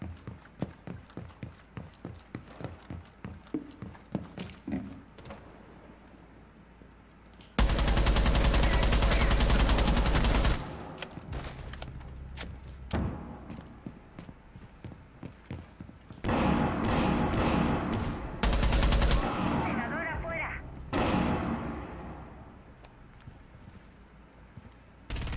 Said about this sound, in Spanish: Hemos disparado un poquito más